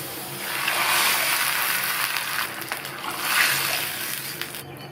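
Water pours in a steady rush into a pan of sautéed vegetables for upma, a continuous splashing gush that rises twice before tapering off.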